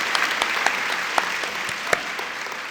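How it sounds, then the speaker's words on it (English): Steady audience applause at a Thomas Paine birthday party, a dense wash of many hands clapping together with a few sharper individual claps standing out, moderately loud and continuous throughout. "give yourselves a big hand of applause"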